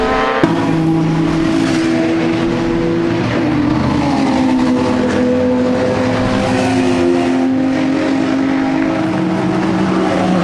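Race cars lapping Brands Hatch circuit during a 2012 Britcar Championship round, loud engine howls with shifting, overlapping pitch bands as several cars drive past close by, sustained without a break.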